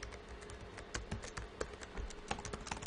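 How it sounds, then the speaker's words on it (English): Rapid, irregular clatter of keys on a computer keyboard as code is typed, close and fairly quiet, with uneven bursts of keystrokes and no talking. "Probably going to type it out incorrectly."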